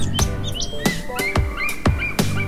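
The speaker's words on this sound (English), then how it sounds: "bald eagle," A bald eagle gives a series of sharp, high piping chirps, about five evenly spaced calls that are close and fairly loud. No voices are heard.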